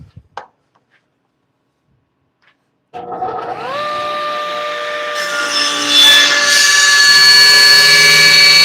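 A power tool starts up after a few quiet seconds with a rising whine and then steadily cuts wood off a turned wooden bowl, its loud, even pitched drone holding until the end.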